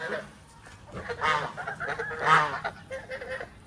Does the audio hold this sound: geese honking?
yes